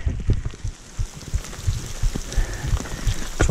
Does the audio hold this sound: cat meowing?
no